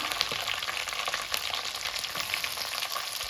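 Green chillies hitting hot oil already holding mustard seeds, cumin, split chickpeas and curry leaves, giving a loud, dense sizzle and crackle that stays steady throughout, with faint spattering pops and no talk.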